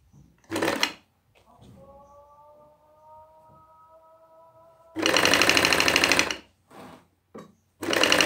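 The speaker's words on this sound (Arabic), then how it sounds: "وغادي نخيط الكتف الاخر الجهه الاخرى." A sewing machine stitches the shoulder seam of a wool cardigan in loud, steady whirring runs, one short and one long, with quiet handling noises, a faint sustained tone and a brief bit of talk between them.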